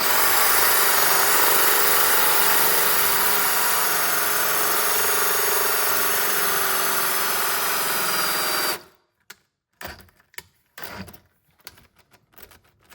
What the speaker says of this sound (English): Just going to let the drill do the work.